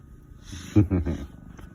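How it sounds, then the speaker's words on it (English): A pet cat gives a short, low rumbling purr-like burst at close range, a few pulsing throbs lasting under a second amid quiet room sound. "But Bowie the cat, but Bowie kind of does his own thing"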